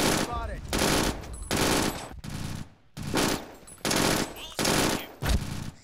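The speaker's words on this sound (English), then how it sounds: "they're shooting me from behind" Automatic weapon fire from the shooter video game BRINK crackles in loud, repeated bursts of roughly half a second each, separated by short gaps, close and harsh throughout.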